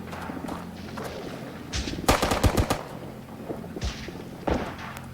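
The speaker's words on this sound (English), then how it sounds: "Possible MG fire up there." Machine gun fire in a WWII milsim video game: a rapid burst of loud shots cracks out at mid-distance, with scattered single thuds and further gunfire around it.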